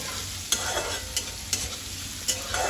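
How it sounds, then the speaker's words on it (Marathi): Onions sauté in hot oil with a mustard-seed, cumin and garlic tempering in a kadhai. A steady sizzle runs under four sharp spoon scrapes against the pan, close and alone. "आणि कांदे टाकून आता चांगले परतवून घेतलेले आहे"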